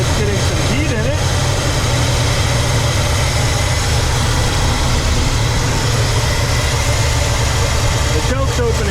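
A 1967 Pontiac Grand Prix convertible V8, just revived and warming up on its choke, idles with a steady, rough, close-up rumble. A voice talks over the running engine.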